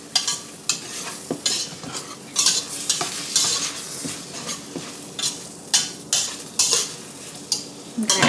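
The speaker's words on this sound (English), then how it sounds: "gravy, I find that a whisk is the superior tool" A whisk works flour into hot sausage fat for gravy, clinking against the pan in a steady rhythmic pattern of repeated scraping strokes with a faint sizzle underneath.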